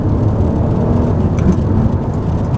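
A Peugeot 308 GT Line pulling away from a standstill, heard as a loud, steady engine rumble with broad road and wind roar that stays constant throughout, with no talking.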